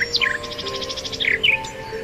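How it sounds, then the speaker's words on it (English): A nightingale sings alone: bright chirps followed by a rapid, evenly spaced trill and a few sharp sliding whistles, clear and fairly close against a quiet background. "Keats imagines the birdsong echoing through time"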